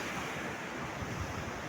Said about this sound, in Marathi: तरी लाटा वगैरे येते